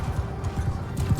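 Horse hooves thudding in rapid rhythm in the video game Mount & Blade 2: Bannerlord, a close, continuous galloping clatter over a busy background.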